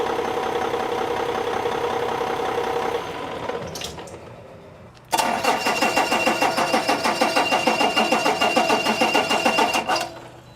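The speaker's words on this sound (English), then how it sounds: "I'm going to fire up the engine" A diesel engine cranks with a rapid rhythmic churn, drops briefly, then catches and roars into a loud, steady, knocking run that continues strongly close by.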